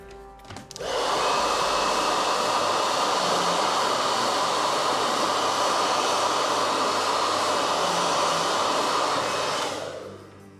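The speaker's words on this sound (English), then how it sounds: "Gotta hit it again with the blow dryer real quick." A blow dryer is drying paint on a Warhammer miniature. The steady, loud whooshing roar switches on after about a second, runs without a break for roughly nine seconds and then cuts off, with no talking over it.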